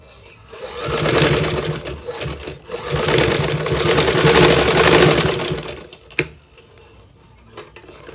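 A sewing machine runs in steady bursts stitching a shirt seam, whirring close and loud for several seconds, then stopping with a sharp click before quieter handling noises.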